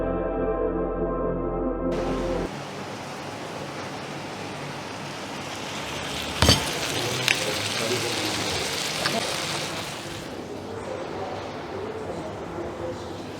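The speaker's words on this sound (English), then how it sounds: "The sizzling chicken sizzlers is here." Steady hissing sizzle of a chicken sizzler platter on a hot plate at a restaurant in Panaji, Goa, continuous and close, with a sharp clatter partway through.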